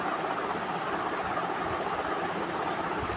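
A train pulling into Vijayawada railway station gives a continuous, even rumble and rush throughout, with no voices.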